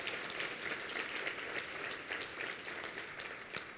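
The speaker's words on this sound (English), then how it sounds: "Please give them a round of applause to say thanks for the work they do." A Chamber of Commerce audience claps to thank the Chamber team, a fairly faint but continuous wash of many hands that holds evenly throughout.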